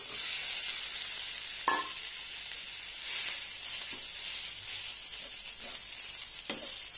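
Rice for raw mango rice sautés in a pan with a steady, bright sizzle, broken by occasional scraping stirs of a spoon, close and loud with no talking.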